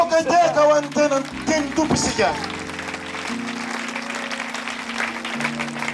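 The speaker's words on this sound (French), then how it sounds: "Applaudissez la parole" A church congregation at a large revival gathering applauds in a sustained wash of clapping that follows a preacher's voice, with organ-like sustained tones underneath.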